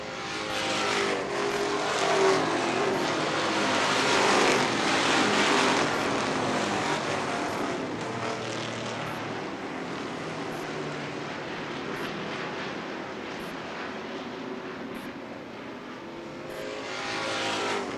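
The 51 race car of Sean Austin drives down pit road with a steady engine drone that swells, then holds fairly level and slowly recedes, heard alone without talk.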